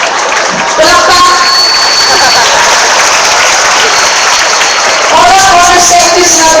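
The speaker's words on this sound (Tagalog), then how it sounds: "Palakpak." Dense, loud applause from a large crowd at an anti-RH Bill prayer rally, sustained clapping that swells again near the end, with some voices mixed in.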